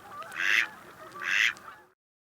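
A drake mallard duck calls in two separate rasping bursts, each about half a second long, fairly close and clear with no talk over it.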